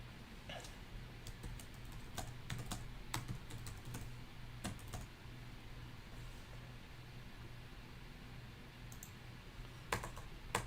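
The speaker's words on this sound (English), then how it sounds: "I love the keyboard on this one" Keys on a computer keyboard click in quick, irregular taps, close but fairly quiet over a low steady hum. The typing pauses through the middle stretch and picks up again near the end.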